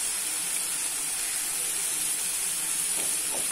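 Tomatoes sauté in hot oil with a pinch of salt for a crab masala, giving a steady, even hiss and sizzle throughout, close and continuous with no talking.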